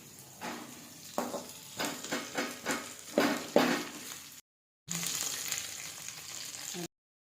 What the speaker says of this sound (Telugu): అలాగే కరివేపాకు కూడా వేసుకోవాలండి పూతకి ఆ నూనెలో వేపుకోవాలండి ఎర్రగా వరకు మంచిగా వేపుకోవాలండి